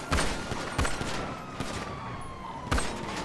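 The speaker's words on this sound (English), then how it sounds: "They're opening fire on me right now" Police opening fire in a GTA roleplay shootout at a vehicle: a few sharp, loud gunshot bursts at the start, near 0.8 s and again near 2.7 s, over a steady background of game noise and a faint siren-like tone.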